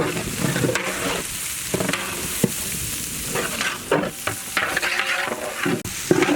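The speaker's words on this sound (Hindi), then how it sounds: "नेक्स्ट हम लोग इसी में ही फाइनली चॉप्ड कैबेज ऐड करेंगे।" Chopped cabbage tossed and stir-fried in a pan with Maggi masala noodles and chicken: steady close sizzling broken by repeated scraping and clattering stir strokes, with no talk.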